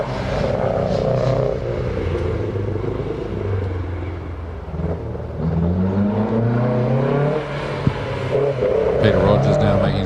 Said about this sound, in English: Peter Rogers now making his way around the hairpin in the 1600 Datsun